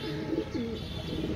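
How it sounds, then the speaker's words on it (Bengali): Large Kaldom pigeons kept for sale give a soft, low rolling coo, a couple of short murmured phrases close by against steady background noise, with no talk. "অনেক সুন্দর কবুতর, কালদম কবুতর দেখেন, বিগ সাইজের কবুতর"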